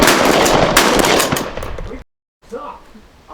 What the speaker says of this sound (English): Oh my gosh, Dalton, start shooting!